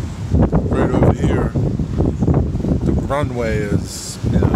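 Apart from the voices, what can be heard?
strong gusty wind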